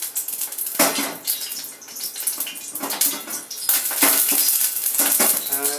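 Cooking oil spluttering and crackling in a pan where water has hit it, preparing a veg egg tomato gravy, with dense bursts of popping and sizzling close by and utensil clatter.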